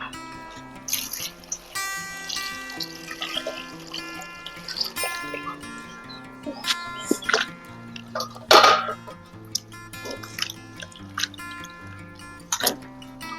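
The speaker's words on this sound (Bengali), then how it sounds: "এখন জল পাল্টিয়ে আমি ধুয়ে নেব ভালোভাবে" Raw mangoes are washed by hand in water, with intermittent splashes, drips and trickles in a close-up kitchen setting, sloshing in uneven bursts with quiet gaps between.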